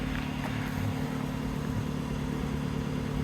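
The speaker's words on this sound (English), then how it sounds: "Petrol engine's just kicked in." A 2015 Mitsubishi Outlander plug-in hybrid's petrol engine runs steadily at idle, a close, even low hum with no talk over it.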